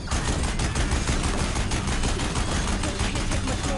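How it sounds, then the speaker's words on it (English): Deathbringer war machines blasting away in Horizon Zero Dawn, a dense, continuous barrage of heavy gunfire layered over a low rumbling engine, loud and unbroken throughout. "If the Deathbringers keep firing, this bridge will go."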